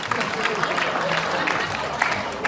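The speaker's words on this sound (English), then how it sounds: "You hear that hunger clap?" An audience at a comedy roast applauds, a dense, steady wash of clapping from a crowd with some murmuring mixed in.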